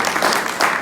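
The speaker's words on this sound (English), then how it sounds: "Give him a round of applause." A crowd of audience members bursts into continuous, dense applause at a religious lecture, steady and fairly loud throughout the short burst.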